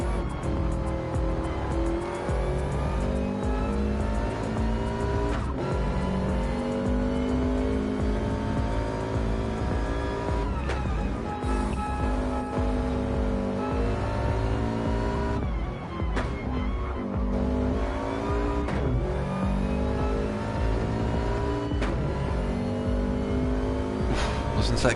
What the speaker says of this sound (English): We've got some awesome driving here from TJC Gaming